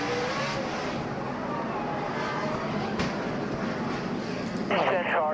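A NASCAR race car engine at the 2006 Subway 500 roars continuously from on board, with a sharp higher whine rising near the end. Commentators talk over the noise throughout.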